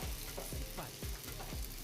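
Cooked jackfruit being mashed in a pan on a gas stove, seasoned with pepper powder, gives soft repeated pressing and scraping strokes over a faint sizzle, roughly one every half second, quiet and close.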